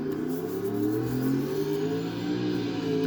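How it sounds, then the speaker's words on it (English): A turbocharged race car with a big turbo and intercooler launches off the trans brake at full throttle on a track day, its engine roaring loud and close as the pitch climbs steadily. "Left foot brake, right finger on the trans brake button, floor the throttle, and it kind of works, and we launch"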